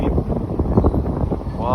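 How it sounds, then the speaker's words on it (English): Strong gusting wind buffets the microphone on a city street in Belltown, downtown Seattle, a loud continuous low rumble with a brief voice near the end. "It's a rough, windy day today."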